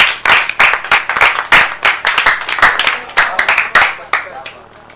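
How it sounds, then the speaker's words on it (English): A small group claps to welcome someone, sharp irregular handclaps close by that thin out and stop near the end. "Let's clap for him."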